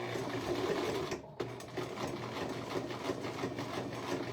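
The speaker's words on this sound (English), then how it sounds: "We're trying to get 3 layers of stuff sewn together here" A sewing machine stitches through three layers of paper, a steady close chattering whir that pauses briefly, then resumes at an even, rapid rhythm.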